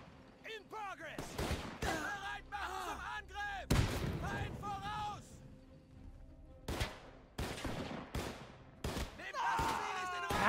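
Gunshots and heavier explosive booms from the video game Men of War 2 come in sharp, scattered bursts, while a voice talks excitedly between and over them.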